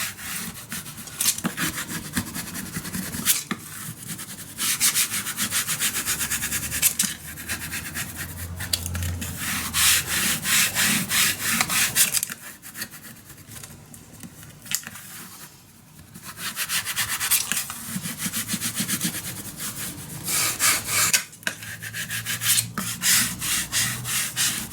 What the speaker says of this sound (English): I am gonna burnish this down very, very well.